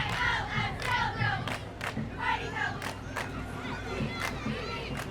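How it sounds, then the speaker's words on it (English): A parade crowd at a Michigan festival cheers and shouts for the Richmond cheer team, with loud sustained whoops and chanting and sharp bursts of noise, close and lively. "Getting the crowd fired up here for the parade."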